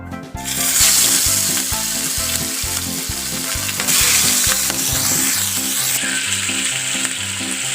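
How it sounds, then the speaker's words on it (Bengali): Tengra fish frying in hot oil in a pan on the stove, a loud, steady, close sizzle that runs throughout with background music playing underneath. "মাছগুলি ফ্রাই করার জন্য প্রথমেই চুলায় একটা প্যানে তেল গরম করে নিয়েছি। এখন মাছগুলা দিয়ে দিব।"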